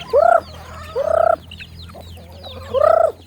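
Chickens call close by in three loud, drawn-out vocal bursts with a cackling, slightly gobbling quality, separated by short pauses, and faint rustling sounds between them.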